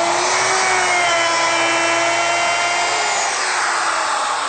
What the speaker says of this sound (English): take a router and start to remove some of that material